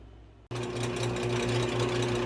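A power drill fitted with a 5/16 bit starts abruptly after a short quiet moment and then runs at a steady, loud whirring pitch without stopping.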